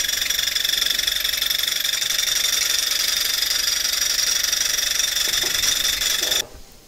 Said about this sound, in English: I'm going to be running the Stirling engine with the vibration sensor on the end here